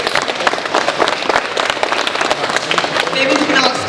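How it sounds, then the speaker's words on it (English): Audience applause at a Pink Day presentation: dense, steady clapping from a crowd, close and fairly loud, with a few voices mixed in. "So big round of applause for Michael and the health committee"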